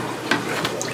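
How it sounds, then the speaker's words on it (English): Dirty water left from washing potatoes is poured out in a brief splashing gush, close and fairly loud. "Let me pour it out so y'all can see it."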